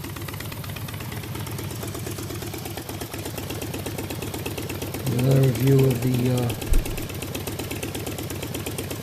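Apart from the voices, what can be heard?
Predator engine idling on motor mount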